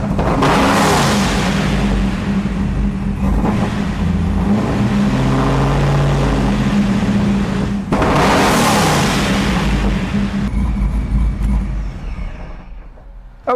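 Procharged 2001 Pontiac Trans Am engine running while warming up, a loud, steady idle rumble with two sharp bursts of revving before fading down near the end.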